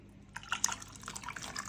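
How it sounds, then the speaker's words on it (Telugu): Water poured into a bowl of finely ground gangavalli leaf paste for village-style dal, heard as a quiet run of soft drips and splashes that starts faintly and keeps going with no talk. "వాటర్ కూడా దానిలో కలుపుకోండి"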